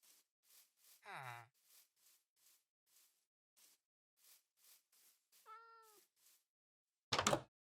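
A Minecraft cat meows twice, a short low mew and then a longer rising, wavering meow a few seconds later, among soft repeated game footstep sounds, with a sharp burst at the end.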